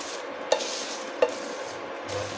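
Whole spices dry-roasting together in a pan for garam masala, with a soft, steady rustle of stirring broken by two sharp spoon taps against the pan.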